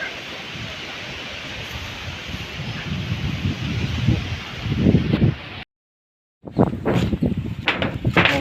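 Strong cyclone wind sweeps through a village, a steady loud broadband roar with gusty surges and rustling, cut by a brief dropout before the roaring resumes with sharper gusts and thumps.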